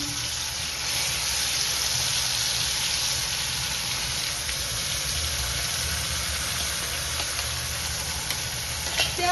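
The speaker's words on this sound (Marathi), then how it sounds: "आपण करून घेतलेली पेस्ट तेलामध्ये टाकून दिलेली आहे" A spice paste sizzles in hot oil with cumin, making a continuous loud bubbling crackle. The sound runs close and unbroken throughout, with faint stirring and no voices.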